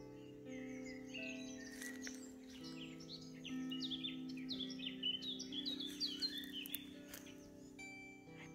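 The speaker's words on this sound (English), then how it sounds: "the birds are so full of song." Several birds chirp and trill in overlapping bursts in woods on Dartmoor, bright and lively over a soft steady background hum, moderately close with more distant calls.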